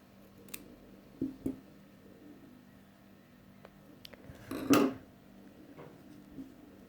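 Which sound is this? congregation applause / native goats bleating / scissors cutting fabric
scissors cutting fabric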